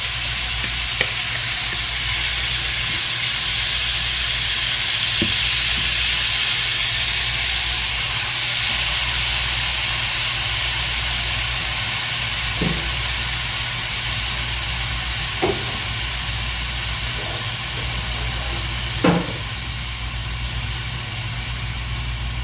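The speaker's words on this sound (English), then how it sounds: "I've got my skillet heating up, and we're going to go ahead and start cooking this meat" About 1.5 pounds of ground beef sizzles in a hot skillet, a steady close frying hiss with a low hum underneath and a few sharp clicks and pops scattered throughout.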